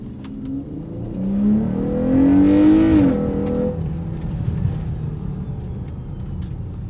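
A car in sport mode fitted with a Pedal Commander throttle controller accelerates hard, its engine note climbing in a rising sweep that peaks around the middle before easing into a steady drone; no talking.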